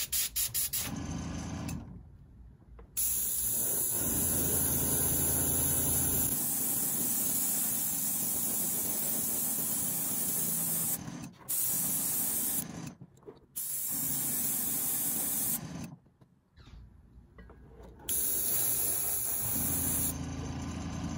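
Bursts of spray paint hiss steadily from an airbrush or spray gun as a charcoal coat goes onto a square bill crankbait lure, broken by several brief pauses and restarts, with a low hum underneath.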